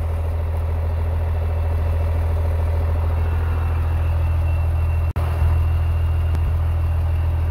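A Cummins diesel swapped into a 1979 Ford truck idles steadily, a loud, close, low rumble with a constant throb and one brief dropout near the end, no voices over it.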